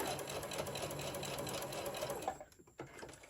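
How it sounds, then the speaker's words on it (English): A sewing machine runs steadily, stitching a straight seam down fabric for a book pillow, its close, even motor whir and needle chatter continuing for over two seconds before stopping abruptly. "I'm going to hold this in place with my hand, and then I'm going to sew straight down."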